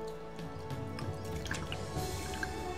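Rice vinegar poured into a bowl of ginger, salt and sugar to mix a dressing for cold lotus root salad, a soft steady trickle and drip of liquid close by, with faint kitchen clatter and no talking.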